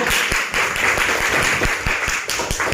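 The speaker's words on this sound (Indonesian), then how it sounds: "Tepuk tangan dulu buat Kesia." Classroom applause from a group of students, a dense run of many hands clapping at once, loud and close, continuing evenly throughout.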